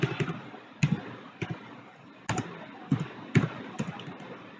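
Keyboard arrow keys pressed on a computer, a handful of distinct separate taps spaced about a second apart, close and clear with no talking.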